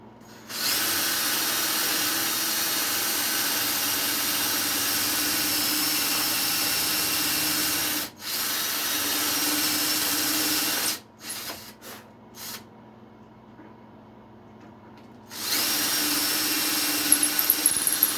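A power drill whirs steadily in long bursts, briefly stopping and stuttering in short pulses before running again, close and loud, driving a screw into wood.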